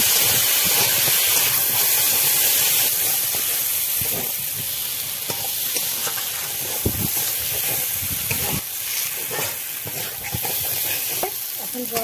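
Water splashed into a hot pan of pea kachori filling sets off a loud, steady sizzle and hiss of steam that runs throughout, with occasional scrapes of stirring.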